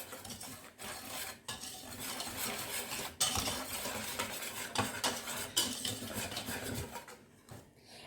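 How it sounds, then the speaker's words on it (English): Sugar, baking soda, baking powder and cinnamon being whisked together in a bowl, a continuous close scraping and clinking of a whisk against the bowl with brief pauses between strokes. "So we're going to whisk it all together."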